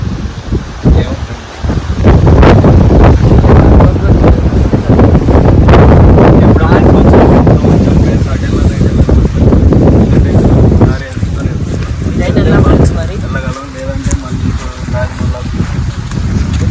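Strong wind buffets the microphone in loud, continuous gusts, easing somewhat near the end.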